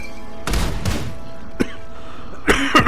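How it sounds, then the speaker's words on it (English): A person coughs during a live Diablo gaming session, giving two heavy, chesty coughs close to the microphone, a short thump, then a rougher throat-clearing burst near the end, over a low background hum. "I'm over here coughing on your ears and stuff."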